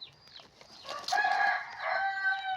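A rooster crows in a drawn-out call, rising and then holding its strained tones, preceded by a few short clucks from chickens; close and clear with no talk.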